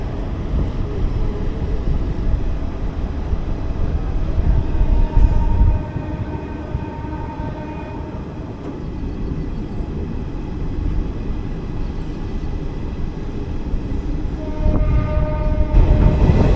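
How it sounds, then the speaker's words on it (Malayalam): A DEMU train approaches on the Chennai main line, a steady rolling rumble of wheels and carriages sustained throughout, with drawn-out horn tones sounding midway and again near the end. "അങ്ങ് ദൂരെ ഒരു ഡെമോ വരുന്ന കാണാം."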